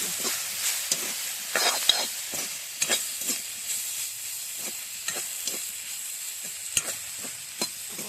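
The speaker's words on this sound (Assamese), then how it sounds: "কণী ভজা তেল আছে, তাতে চয়াবিনখিনি ভাজি লওঁ।" Soybeans frying in hot oil with a little turmeric in a village kitchen, a gentle steady sizzle broken by repeated scraping stirs and light clinks, close and fairly quiet.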